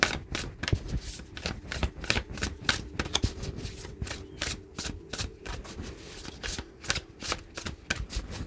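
Playing cards being shuffled close up, a quick run of crisp riffling bursts repeated over and over in a steady rhythm, with no voices.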